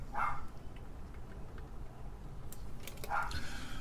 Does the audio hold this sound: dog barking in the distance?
yes